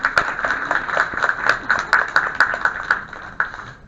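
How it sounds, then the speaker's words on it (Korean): Scattered claps from a small crowd welcoming a district head to speak at a university admissions briefing, a steady patter of hand claps with a few sharper, louder ones standing out. "큰 박수로 환영해 주시기 바랍니다."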